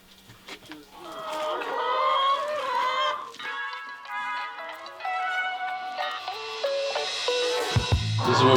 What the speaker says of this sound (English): This is where we collect the chickens.